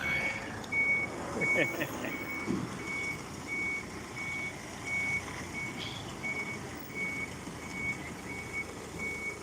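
A truck's reversing alarm beeps in a steady, evenly spaced series near St Andrew's Hospital in Adelaide, sounding over a constant rumble of engines and street traffic.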